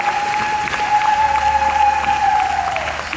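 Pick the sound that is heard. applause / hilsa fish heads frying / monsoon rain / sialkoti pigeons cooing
applause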